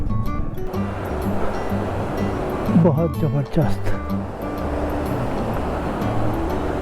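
Tirthan river water rushing steadily in Tirthan Valley during a monsoon ride, a broad continuous roar heard close by, with someone speaking briefly over it midway.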